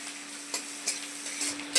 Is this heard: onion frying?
yes